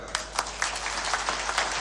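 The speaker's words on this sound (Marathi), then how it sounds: "आता उदय सामंत साहेबांसाठी आत्ता वाक्यासाठी जोरदार टाळ्या वाजवाय" An audience at a political speech in Maharashtra breaks into brisk, scattered applause, a continuous patter of hands with a few louder claps standing out.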